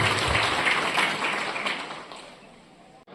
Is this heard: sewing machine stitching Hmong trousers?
no